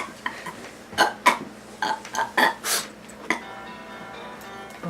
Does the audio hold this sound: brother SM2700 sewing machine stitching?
no